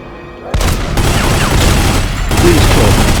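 Gunfire from the video game The Godfather: The Don's Edition bursts in abruptly as a dense, loud volley of rapid shots and booms that continues to the end.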